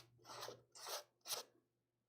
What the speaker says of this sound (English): when you rub the sandpaper over it